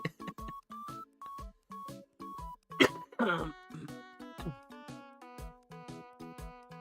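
A string of repeated coughs and throat-clearing bursts, close and fairly loud, mixed with a voice and a steady tonal background.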